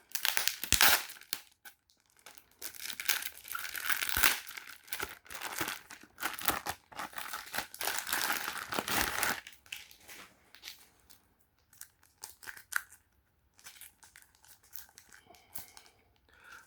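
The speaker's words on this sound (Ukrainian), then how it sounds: "А, скотч, скотч, скотч. Як я не люблю цей скотч." Packing tape crackling and ripping off a parcel in bursts of loud crinkling, close up, with quieter pauses between pulls.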